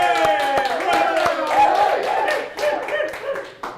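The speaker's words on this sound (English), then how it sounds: "in our studio audience, a nice round of applause" A studio audience gives a round of applause, scattered claps and cheers over steady music with tonal lines, clapping loud and fairly close throughout.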